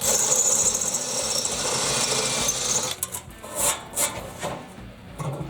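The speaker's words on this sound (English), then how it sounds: "Just want to drill the head off." A power drill runs steadily, drilling the head off a bolt on a Cub Cadet front-mount PTO clutch, then breaks into a few short uneven bursts with loud, close, grinding metallic whine.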